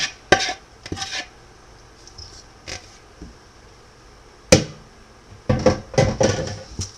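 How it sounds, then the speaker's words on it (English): A utensil scrapes and clanks against a pan while stirring Hungarian roast duck stuffing made with soaked buns and spices, in sharp irregular bursts separated by quiet pauses, with a faint sizzle underneath. "I'm just going to stir this around and then continue to add my spices to it"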